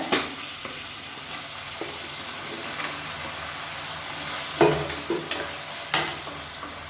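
Chopped tomatoes frying in oil sizzle steadily, with intermittent scraping and clattering as they are stirred in the pan, moderately close and without talk.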